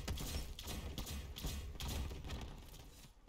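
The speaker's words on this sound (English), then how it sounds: "Fucking fireworks." Fireworks going off in a quick series of crackling bursts and thumps, faint and distant, repeating irregularly for a few seconds.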